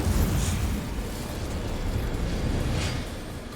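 An Incendio fire spell in the Hogwarts Legacy video game roars as a sustained, loud whooshing eruption of flame with a heavy low rumble and two brief brighter flares, continuous throughout.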